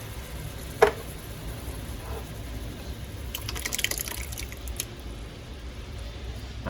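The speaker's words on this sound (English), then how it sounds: "I'm going to pour in the crushed tomatoes." Crushed tomatoes pour into a cooking pot for turkey meatball spaghetti, a soft wet glug and splatter with a few louder plops midway, heard close over a low kitchen hum without talking.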